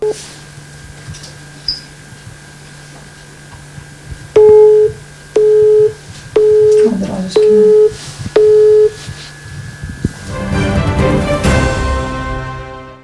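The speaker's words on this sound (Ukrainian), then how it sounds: "Телефонні дзвінки від Юлії, представник колишнього чоловіка, постійно скидає." A rejected phone call: a few quiet dial clicks, then five evenly spaced busy-signal beeps ring out clearly before a burst of broadband noise closes the line.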